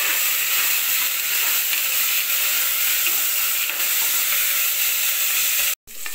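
Tomatoes with fresh coriander and mint sautéing in a pan for mutton soup give off a steady, loud sizzle and hiss that runs unbroken and cuts out briefly near the end.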